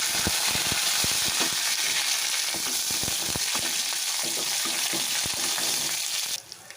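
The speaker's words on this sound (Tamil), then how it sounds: "கடுகு போட்டு பொரியுது." Mustard seeds and spices frying in hot oil for South Indian mango rice, a loud, dense sizzle with crackling pops and scraping stirring strokes, close and continuous until it drops away at the end.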